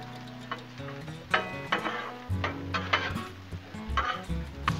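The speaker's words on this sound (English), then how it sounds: "Stir our shrimp one more time and we're gonna mix everything together." Shrimp and sausage sizzle steadily on a Blackstone griddle while a spatula stirs and scrapes, giving repeated metallic clicks and taps over a continuous frying hiss.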